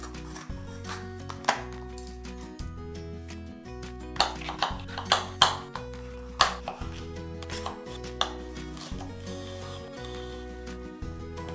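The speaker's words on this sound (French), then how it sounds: "on commence par découper 2 poivrons en lamelles, un rouge et un vert" Knife chops repeatedly through red and green bell peppers on a cutting board, sharp knocks in an irregular rhythm, close and clear over a steady background of music, with no voices.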